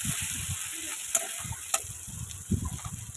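Cumin and coriander powder sautéing in oil in a pan for a rupchanda (pomfret) oil-chilli fish curry: a steady close sizzle with repeated scraping spatula strokes and a couple of sharp metallic clinks, no voices.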